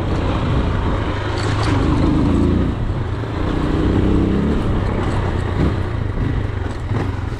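A 2023 AKT TTR 200 motorcycle ridden on a rough off-road dirt trail, its engine droning loud and close with rising and falling throttle surges.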